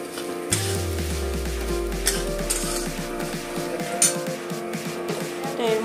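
A spoon stirs lentils and whole spices in hot oil in a pan, with a steady run of quick metallic scrapes and clinks over a soft sizzle, close and clear.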